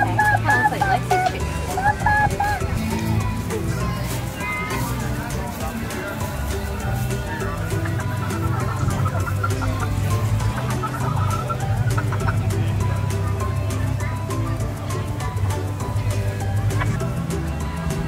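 Chickens cluck steadily at a pumpkin patch farm, close and fairly loud, over a continuous low rumble, while adults and someone talk throughout.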